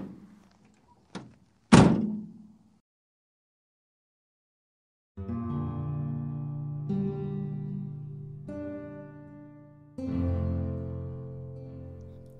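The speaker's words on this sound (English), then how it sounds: "Doors shut." Doors thud shut, two soft knocks followed by one loud, sharp slam that rings briefly, then a pause before sustained musical tones begin.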